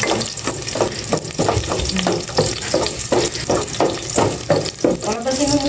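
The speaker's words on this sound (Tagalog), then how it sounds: "Igisa ko na itong bawang." Garlic sizzles steadily in a hot pan, with a loud, continuous frying hiss and rhythmic scraping strokes of a spatula as it is stirred.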